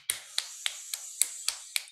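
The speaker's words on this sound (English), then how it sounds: "so you kind of do a clap together." Sharp hand claps during a yoga exercise, seven crisp strikes at an even, steady rhythm about a quarter second apart, close and fairly soft, with no talking.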